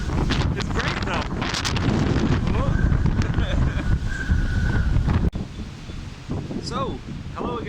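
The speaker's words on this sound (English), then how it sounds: "It's too windy here." Strong wind roars and buffets the microphone continuously, with rushing air over open water aboard a ship and a sudden gust-like jolt partway through.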